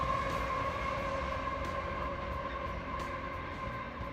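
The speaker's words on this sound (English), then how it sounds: "a train that, I mean, it looked like it was hauling coal" A coal freight train rolling past in the desert with a steady, dense rumble and screeching wheel tones, constant throughout with no pauses.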